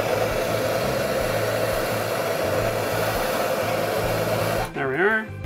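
Torch heating a brass shower valve body for soldering, a steady loud roaring hiss that runs continuously for several seconds, then cuts off, followed by a short voice.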